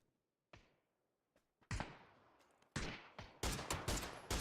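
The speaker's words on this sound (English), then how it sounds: "beautiful headshots by Olsen." Gunshots crack in a competitive first-person shooter match, starting with a few sparse single shots and building into rapid, loud bursts of repeated fire with no talk over them.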